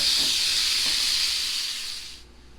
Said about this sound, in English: I'm going to cook these, cook this bacon until it's crisp